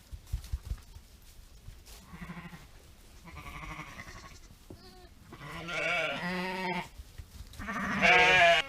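Sheep and lambs bleat repeatedly inside a crowded lambing pen, a series of close, wavering calls that overlap and grow louder toward the end.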